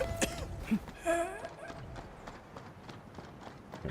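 Horse hooves clip-clop in a short, uneven patter during gameplay in Arknights: Endfield, mixed with bright game effects and chimes, with a whinny-like tone early on.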